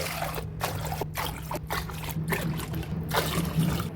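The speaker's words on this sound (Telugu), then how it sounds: "ఇప్పుడు ఇందులోకి 7 కప్స్ వాటర్ వేసుకోవాలి." Water trickles and splashes steadily as it is poured cup by cup into a thick cooking pot, a continuous close pour with short breaks between cups.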